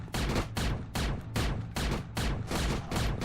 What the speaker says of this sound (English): Now this is the grenade launcher.